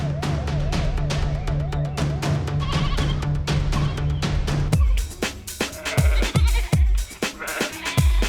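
Cartoon sheep bleat in a pen, several wavering calls over a steady low tone, then a run of sharp, bouncy plucked effects.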